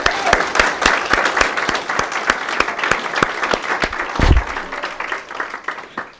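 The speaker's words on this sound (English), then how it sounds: "Let's give Johnny another round of applause." Sustained applause from an audience at a community recognition event for Black Balloon Day, dense steady clapping throughout with a brief low thump near the end.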